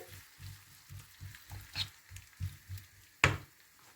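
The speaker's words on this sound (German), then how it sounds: "Grüne Peperoni. Erstmal umrühren." Green chilies and tomatoes fry in a pan with a soft sizzle while a utensil stirs in a steady rhythmic scraping, ending in one sharp knock against the pan.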